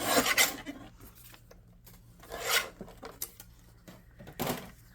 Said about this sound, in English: so we're going to trim the envelope down